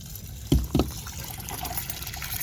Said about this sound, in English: So we're just going to open up the drain.